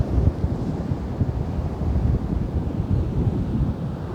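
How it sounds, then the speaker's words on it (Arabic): Rough sea with big waves at Oued Laou, where fishing boats stayed in, comes through as a continuous loud roar of surf heavily buffeted by wind rumbling against the microphone. "كيف كتلاحظوا معنا هنا اليوم البحر كبير بزاف"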